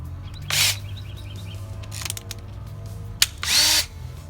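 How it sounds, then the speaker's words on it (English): A power drill fitted with a 9/64 drill bit drills into a window frame, three short whirring bursts of about a third of a second each, close and loud over a quiet low hum. "I'm going to use a 9/64 drill bit."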